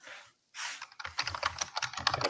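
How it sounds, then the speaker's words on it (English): Rapid typing on a computer keyboard, a quick run of close, crisp key clicks after a brief pause, with no voices. "You're typing much faster than me"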